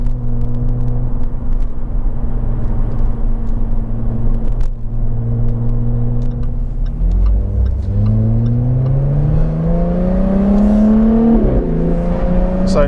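A Jaguar F-Type sports car with the roof down on the Llanberis Pass in North Wales idles with a low burble, then revs hard and accelerates, its engine tone climbing loudly through the gears.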